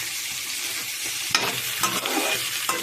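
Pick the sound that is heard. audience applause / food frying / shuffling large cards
food frying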